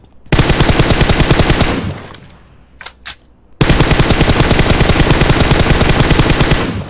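Gunfire in the mobile game PUBG Mobile: a loud, close burst of automatic fire, then a brief lull with a couple of sharp single shots, then another long sustained burst.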